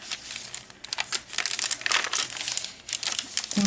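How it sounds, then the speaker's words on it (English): Crisp, close crinkling and rustling of a stiff waxy glassine paper bag being handled, irregular bursts of crackle with no talking. "This is like a waxy, glassine almost bag. It's really nice. A lot of texture. I love the sound of it."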